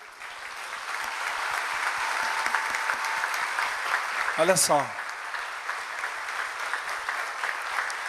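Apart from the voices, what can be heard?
church congregation applauding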